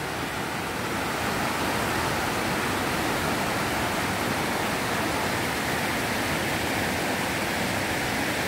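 A swollen river rushes past after a storm, a loud, unbroken broadband roar of flowing water with no voices, steady from start to finish.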